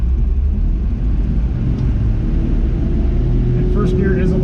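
A 1982 Toyota FJ40 Land Cruiser engine runs at a steady low idle, a loud, close rumble that continues throughout, with a few faint higher sounds near the end.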